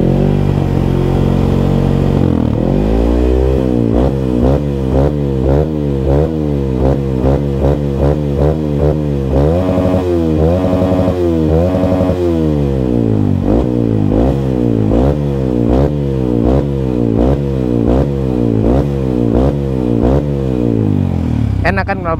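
Motorcycle fitted with a Radamel F4 titanium exhaust revving repeatedly, loud and close, with rhythmic rising-and-falling bursts and a throaty burble between revs over about twenty seconds.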